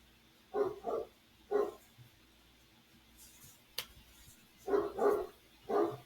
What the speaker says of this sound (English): Sorry for the occasional barking from the dogs.